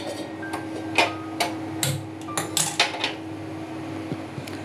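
A metal cooking pot set down on a gas stove to heat for tempering, giving a series of sharp clinks and light knocks at close range over a faint steady hum.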